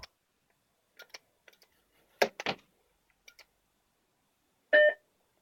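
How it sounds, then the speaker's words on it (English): Quiet room with a few soft clicks and taps, then a single short electronic beep near the end from a Macintosh 512K alarm clock, faint and sparse. "it will continue to bleep until you open alarm clock and turn the alarm off"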